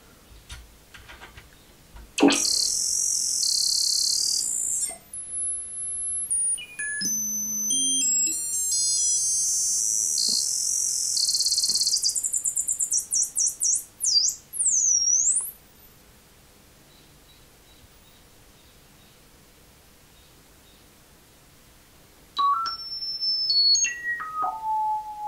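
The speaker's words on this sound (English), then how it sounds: "If we listen here to this oscillator modulating another, we can see the extreme range that's available from it." A Mungo Enterprises w0 arbitrary oscillator has one oscillator modulating another, giving loud electronic tones that jump, warble and sweep across a wide pitch range, with clicks between them, a long quiet gap and a final falling sweep.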